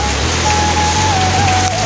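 Big hail hammers down on the ground in a steady, loud, close roar of countless tiny impacts, blending into a rain-like hiss with no voices.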